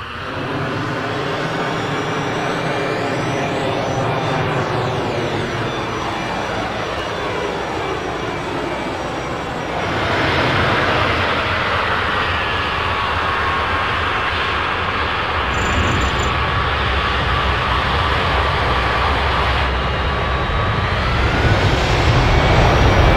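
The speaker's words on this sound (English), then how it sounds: "The engine sounds in this package are fantastic, and truly capture the roaring power of the 727's low-bypass turbofans" Simulated Boeing 727 low-bypass turbofan engines in a flight simulator spool up with a rising whine that swells into a loud, steady roar, continuing without talk.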